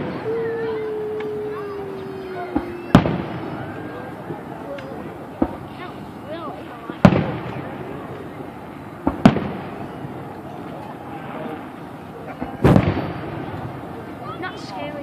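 Fireworks burst at a 4th of July show in Chillicothe, several sharp booms spaced a few seconds apart, loud and echoing, after a whistling rising shell early on, with spectators talking in the background.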